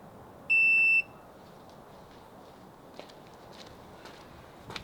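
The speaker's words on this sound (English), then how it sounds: "I heard the beep" A single clear electronic beep from a Eufy keypad deadbolt smart lock, short and sustained, followed by faint clicks and quiet room noise.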